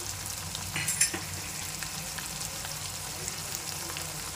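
Mutton and fenugreek leaves fry in a hot pan with garam masala and cumin powder, a continuous close sizzle under a few scraping stirs of a spoon.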